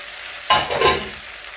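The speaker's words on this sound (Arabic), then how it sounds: "خلاص شوحناها دقيقه واحده بس، تشويح خفيف فقط لا غير" Zucchini and potatoes are lightly sautéed in a pan, with a short rush of sizzling and stirring that swells and fades over about a second, close and clear over a quiet background.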